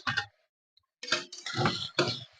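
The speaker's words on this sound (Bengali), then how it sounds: "আমি ঢাকনাটাকে তুলে নিলাম" A metal lid comes off a pot of cooking Malabar spinach with a quick clink, followed by bursts of bright clattering and sizzling noise, close and short.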